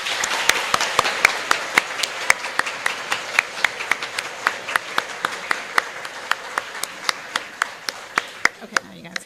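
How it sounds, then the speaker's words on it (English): Applause from the audience at an elementary school promotion ceremony, rendered as a steady series of sharp, evenly spaced claps over a soft crowd bed, moderately loud and continuing throughout. "Let's give these students another round of applause."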